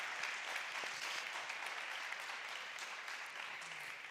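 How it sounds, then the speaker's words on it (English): Steady, rather faint applause from an audience at a tech conference livestream, a continuous wash of many hands clapping without distinct individual claps. "A round of applause."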